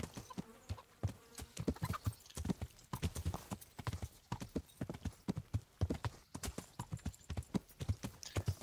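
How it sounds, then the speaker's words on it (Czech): A horse's hooves clip-clopping in the video game Kingdom Come: Deliverance, a steady close rhythm of distinct strikes, with a brief whinny-like sound among them. "Ale kůň umí couvat."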